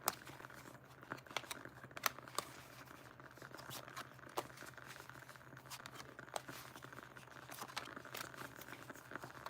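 Tarot cards being shuffled by hand, soft faint papery patter and riffling clicks coming in irregular bursts close by, with no talk.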